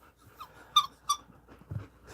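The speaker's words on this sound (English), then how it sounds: "And the pup's playing with her toy." A puppy plays with a toy: two sharp squeaks about a third of a second apart, then soft rustling and a faint snuffle, close by.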